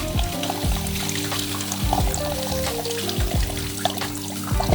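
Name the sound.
coffee machine part rinsed under running tap water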